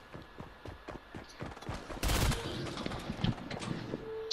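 Video game gunfire crackles in sharp repeated shots, starting as scattered distant pops and building into a louder burst of close rapid fire with echoing cracks.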